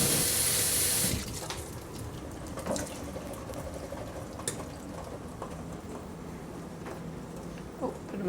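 Water runs steadily from a kitchen tap while a vegetarian bean dish is being made, a continuous close splashing rush after a brief louder burst at the start, with small clinks of dishes over it.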